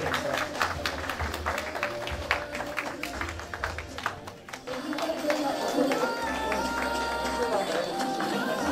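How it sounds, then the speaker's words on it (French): Wedding guests clapping at a civil marriage ceremony, a steady crowd applause with chatter and voices mixed in throughout. "Est-ce qu'on va applaudir très fort?"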